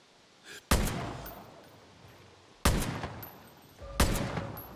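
Three sharp, loud gunshots ring out in the video game Far Cry New Dawn, spaced about a second or two apart, each with a decaying echo tail.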